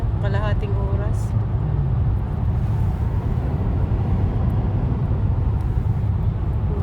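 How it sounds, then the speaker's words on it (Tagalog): Steady, dense road traffic near a beach park in Maryland, many cars passing in a continuous low rumble, with a voice speaking briefly at the start. "Daming sasakyan."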